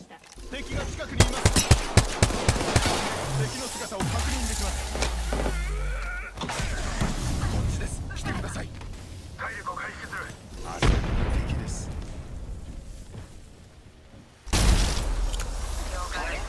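Rapid bursts of gunfire in Apex Legends crackle and boom over a rumbling background, with heavy blasts and intermittent sharp shots.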